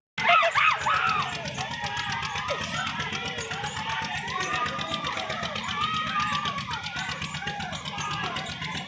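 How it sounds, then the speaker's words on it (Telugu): People screaming on a fast fairground ride at a flamingo festival event, shrill wavering cries rising and falling continuously over a steady crowd din and mechanical noise, loudest at the start. "ఒకసారి మీరే వినండి వాళ్ళ అరుపులు ఎలా అరిచినారో."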